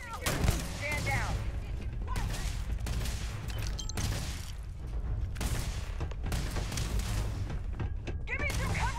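Repeated gunfire bursts in the video game Starfield, with shots and impacts layered over game sound and voices talking throughout.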